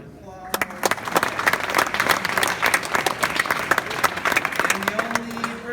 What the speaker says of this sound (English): So give Drew a round of applause.